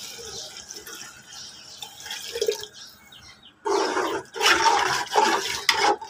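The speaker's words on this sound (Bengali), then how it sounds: "তো বন্ধুরা আমি এখন পানি দিয়ে দেব।" Water poured into a pot of spicy country chicken curry with masala, a soft trickle at first, then a loud gushing splash that runs for a couple of seconds, with no voices.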